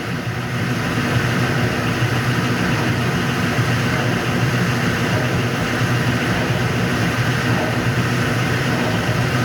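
A Speed Queen commercial washer drum spins at high speed, giving a loud, steady whirring roar with a constant low rumble and no breaks or talk.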